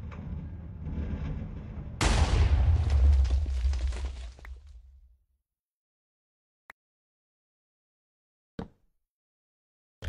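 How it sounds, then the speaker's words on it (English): A Minecraft TNT minecart explosion goes off as a loud, booming blast with a rumbling low roar that fades over a few seconds into silence, followed by a couple of faint isolated pops. "That was a nuclear explosion, most definitely."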